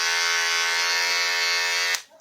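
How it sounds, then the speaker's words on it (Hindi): A Nova NHT 1087-03 electric hair trimmer, just repaired, runs with a steady loud motor buzz that holds evenly for about two seconds and then cuts off sharply into near silence. "ये हमारा चलने लग गया ट्रिमर।"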